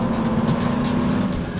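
A BMW 335i F30 sedan driving, its engine and road noise forming a steady, loud hum from inside the car with a faint rhythmic pulsing and no talk.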